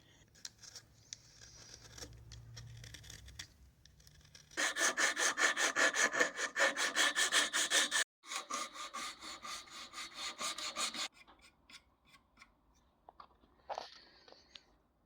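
Steady, rhythmic abrasive rasping of sanding a homemade wooden trout glide bait, two bursts of fast back-and-forth strokes, close and loud, then quieter scraping.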